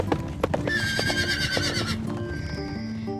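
A horse neighs in a long, bright whinny, with sharp clip-clopping hoof strikes on either side of it, close and clear, over a soft musical background.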